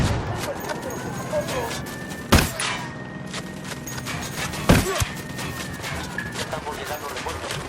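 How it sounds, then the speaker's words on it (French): Gunfire in Ghost Recon Wildlands: two sharp, loud shots spaced a couple of seconds apart rise over a busy game soundscape with ongoing background noise. "Des coups de feu."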